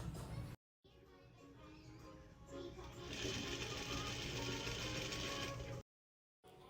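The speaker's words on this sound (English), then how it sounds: "I'm going to sew it together like this." A sewing machine stitches across the top edge of a strapless dress in one steady, fairly loud run of rapid whirring that grows busier midway, with short silent breaks at the start and end.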